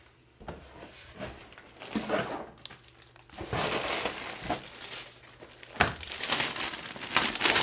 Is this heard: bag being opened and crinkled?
yes